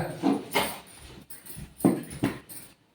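A dog gives several short barks and whimpers at close range, spaced unevenly over a few seconds, with no talk.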